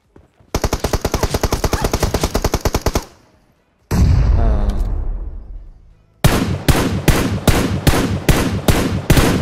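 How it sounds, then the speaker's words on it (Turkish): Loud machine gun fire in the mobile battle game PUBG Mobile: a long rapid automatic burst, a heavy rumbling blast fading out, then a slower string of close, evenly spaced shots. "Olduğum yere var ya direkt mermi sallıyor ya"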